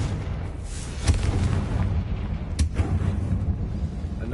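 Explosions from Confringo spells in Hogwarts Legacy: two sharp booming blasts over a dense rumbling game soundscape, each with a short decaying tail.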